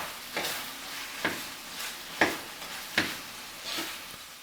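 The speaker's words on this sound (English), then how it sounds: "Give it a quick stir." A spoon stirs green bean casserole with spinach in a pan, making soft rhythmic scrapes and a few sharper clicks against the pan over a faint sizzle, close and unaccompanied by talk.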